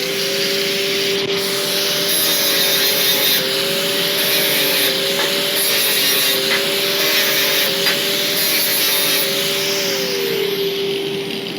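An angle grinder cleans scale off the metal edges before welding. It gives a steady, loud whine for the whole stretch, with a faint wavering pitch and no talk.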